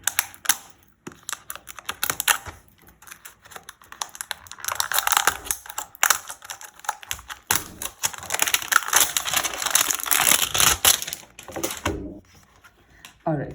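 A paper box holding 5 ml Camel watercolour tubes gets handled and opened up close, with dense crinkling, tapping and scraping of card in quick irregular bursts that fall quiet near the end.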